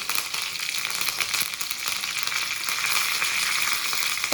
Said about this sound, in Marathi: तीळ थोडेसे, अर्धा चमचा, कढीपत्ता टाकला तरी चालेल